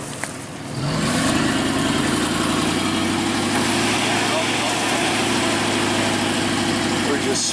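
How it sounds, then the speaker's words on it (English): A stuck vehicle's engine starts up and holds a loud, steady revving drone as the wheels spin without grip on the trail, continuing without letup. "We're just spinning them wheels."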